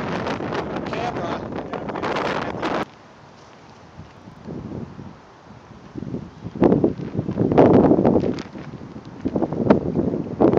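A northwest wind gusts across an outdoor test site, buffeting the microphone in heavy rumbling bursts that drop away briefly and then return, with a person talking at times.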